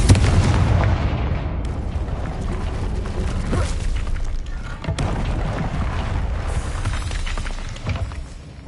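Rapid overlapping explosions from Confringo blasting spells in the Hogwarts Legacy video game, a dense continuous barrage of loud booms with sharp cracking onsets and shattering debris, sustained throughout.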